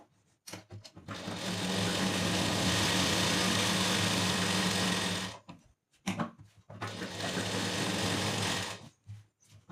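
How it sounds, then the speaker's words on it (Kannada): A sewing machine runs loud and close while stitching a blouse, with two long continuous runs separated by short stops and a few quick start-stop bursts. "ಈಗ ಸ್ಟಿಚಿಂಗನ್ನು ಹಾಕೊಳ್ಳಿ."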